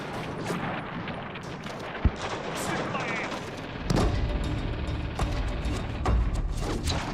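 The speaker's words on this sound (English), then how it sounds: "Americans are pinned down by mortars and machine guns no matter where they go." Battle fire in mountainous terrain with gunfire, mortars and machine guns, a dense continuous rumble of distant bursts and sharp cracks, a louder thump midway, all under narration.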